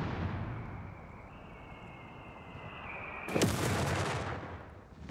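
Artillery in Company of Heroes 3 sends a long incoming whistle that ends in a loud, close explosion, and a rolling rumble follows over steady battlefield noise with no speech.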